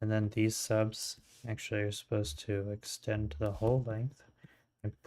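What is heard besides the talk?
No distinct noise like a dog, phone or traffic.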